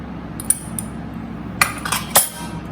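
Spices are stirred into okra kadhi in a pot, with a few sharp metal spoon clinks against the pot rim scattered over a low background hum.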